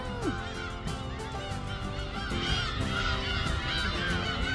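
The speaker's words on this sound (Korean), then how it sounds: "갈매기들이 매우 많고 우는 소리도 매우 크네요." A noisy flock of seagulls by the sea near a red lighthouse, calling loudly and continuously, overlapping cries and honking squawks forming a dense chorus nearby.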